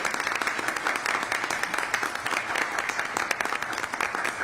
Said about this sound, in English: let's get another round of applause for PAC 524